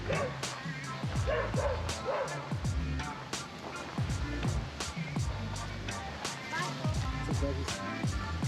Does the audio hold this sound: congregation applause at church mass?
no